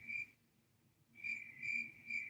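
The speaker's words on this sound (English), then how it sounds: "I don't know who's doing the cricket sound" A cricket chirps in quiet, high-pitched pulsing bursts, with a pause and then three repeated chirps, faint and alone.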